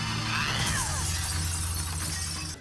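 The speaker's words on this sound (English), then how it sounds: "And Azula smashes the mirror." Glass mirror shattering in Avatar: The Last Airbender, a loud crash followed by a sustained spray of tinkling, scattering shards over a low hum, with no talk.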